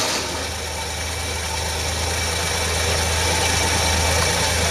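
A DeLorean engine idles on its own with a steady, loud, continuous mechanical hum that holds level throughout.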